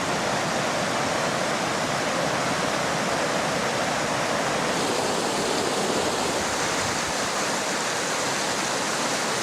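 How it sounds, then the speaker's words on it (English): Barney Beck rushes beneath High Bridge in a loud, steady, unbroken roar of fast-flowing stream water, close by and constant, with no voices. "There's the water rushing down to meet the swale."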